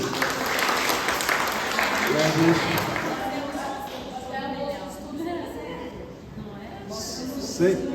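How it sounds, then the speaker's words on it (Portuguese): Applause from a congregation at a weekly doctrinal church class, moderately loud and continuous, mixed with voices talking and slowly thinning toward the end. "Palmas para vocês."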